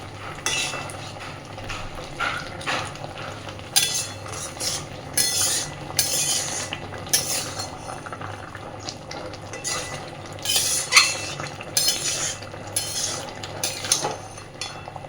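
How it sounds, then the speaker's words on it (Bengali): A spoon stirs ghee into papad dalna in a pan, making repeated scraping, clinking strokes against the metal over a soft background sizzle, close and steady in rhythm. "খুব ভালোভাবে এবার মিশিয়ে দেব"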